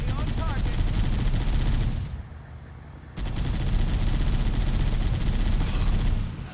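Heavy, continuous gunfire from Halo: Combat Evolved on PC roars as a dense, loud barrage, dipping briefly before resuming at full intensity, with faint voices under it.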